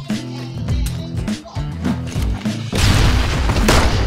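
A deep booming grenade explosion in the Six Guns game, heavy low thuds followed by a loud, noisy blast that rolls on to the end, close and forceful.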